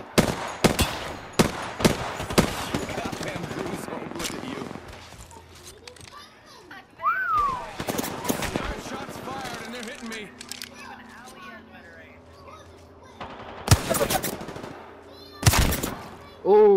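Bursts of rapid automatic gunfire in a shooter video game, loud sharp volleys in several clusters separated by quieter stretches, with excited voices talking over the action.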